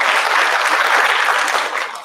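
Applause from a school assembly audience, a steady dense patter of many hands clapping for a house points announcement, loud and continuous with no talk, easing slightly at the end.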